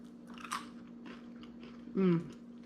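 Close crunching bites and chewing on a crisp garlic sourdough cracker, a couple of brittle cracks over a low steady hum.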